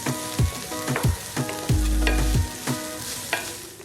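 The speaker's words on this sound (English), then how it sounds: "adding 1 tablespoon of oil, add half a cup diced red onion, Saute for 3 minutes" Diced red onion sautéing in a tablespoon of oil, steady sizzle close up, broken by several sharp clanks of a utensil stirring against the pan, with no one talking.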